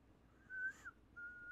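A faint human whistle, two short steady tones separated by a brief pause, over quiet background.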